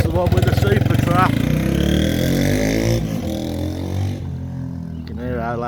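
A 1978 Honda XL250 motorcycle fitted with a Super Trap exhaust runs nearby with a loud, throbbing engine note that rises and falls as it is revved, while people talk over it.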